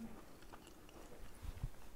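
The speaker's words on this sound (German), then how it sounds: "Entschuldigung, dass ich vielleicht jetzt schmatze, aber die kleben schon so richtig im Mund." Someone chews sticky chocolate almond ghriba cookies close to the mic, with a few soft bites and wet smacking sounds in a brief, quiet moment and no talking.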